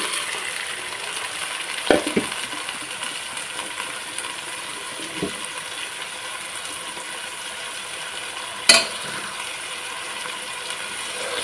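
Carrots, beans and double beans frying in a pan for veg biryani give a steady, even sizzling hiss, with a few isolated utensil clicks and knocks.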